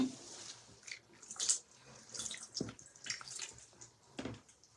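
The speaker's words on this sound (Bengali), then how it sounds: "তো হাত ধুয়ে নিই প্রথমে" Hands are washed under a running tap, with soft irregular splashes and drips that come and go close by, faint and uneven, with no talking.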